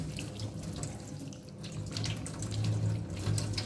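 Tap water runs steadily as hands are rinsed at a sink in a food microbiology lab, a close, continuous splashing rush that swells slightly toward the end, with no voices.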